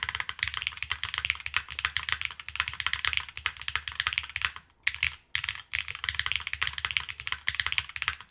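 An HE keyboard fitted with lavender switches is typed on quickly, giving dense, crisp clacks that run in fast bursts, with a couple of brief pauses partway through.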